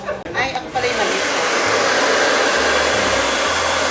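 A hair dryer starts up in a barber shop in Pakistan and blows as a loud, steady rushing roar close by, after a brief clatter at the start.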